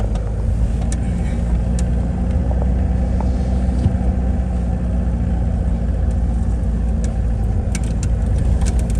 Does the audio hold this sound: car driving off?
yes